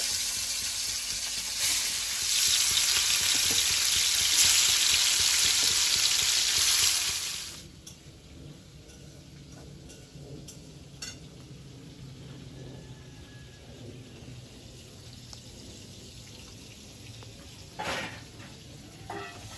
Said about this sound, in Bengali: এখানে তেল দিয়ে দেবো। মাছগুলো এক এক করে দিয়ে দেবো।